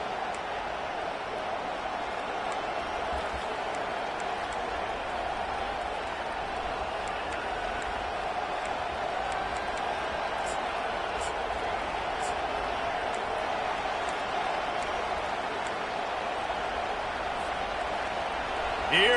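Home crowd at a Miami vs Ohio State football game, a steady distant roar of many fans that holds throughout with no break or clear peaks.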